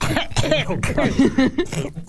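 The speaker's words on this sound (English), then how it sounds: "coughing" A person coughs in a quick string of harsh, close bursts that mix with throat-clearing.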